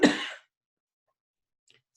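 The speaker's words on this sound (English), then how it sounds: "I do have a bit of a cough." One short, sharp cough up close, followed by near silence.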